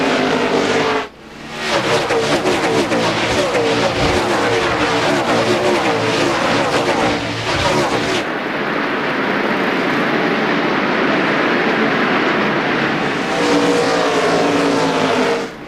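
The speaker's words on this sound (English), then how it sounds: "Marlin up to 2nd and Ward up to 6th as we go back racing." NASCAR Winston Cup race cars roar past at New Hampshire International Speedway, a loud, continuous engine wail with a sharp drop near the start and a sustained full-field drone that shifts tone midway.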